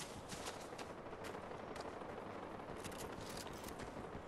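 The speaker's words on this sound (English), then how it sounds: "is that deliberately shooting at us or just random shots?" Distant, muffled gunfire crackles in a rapid, dense spray that blends into a steady noisy wash across the whole stretch, with no single crisp shot standing out.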